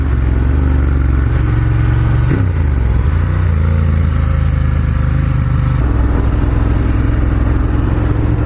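A Ducati Monster 1200 S engine pulls hard and loud, its revs climbing, dropping briefly around a gear change, then rising again in a sustained rasping growl, heard close up with no talking.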